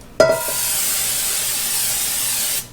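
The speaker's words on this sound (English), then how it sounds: "This is some non-stick spray. So I'm going to spray a big bowl, a clean bowl." A short click followed by a loud, steady hiss of an aerosol non-stick cooking spray into a bowl, held for a couple of seconds before cutting off abruptly.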